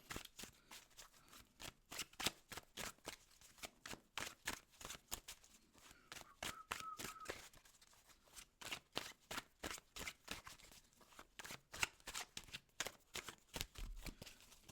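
A deck of tarot cards being shuffled close up: quiet, repeated riffling and slapping bursts in an uneven rhythm for about fifteen seconds, with no talking.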